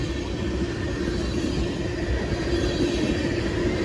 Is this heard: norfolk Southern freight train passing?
yes